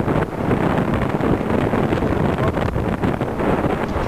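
Wind blowing at a sunny, crowded beach, a steady loud rush buffeting the microphone with a rumble that may include surf, with no voices over it.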